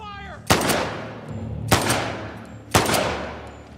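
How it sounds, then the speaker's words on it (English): Three loud, close gunshots in The Last of Us Part II, evenly spaced about a second apart, each with a sharp crack and a rumbling tail. "We're under fire!"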